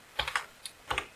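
Short burst of keystrokes on a computer keyboard while a formula is typed: a handful of light, close clicks in two quick clusters, with no voice.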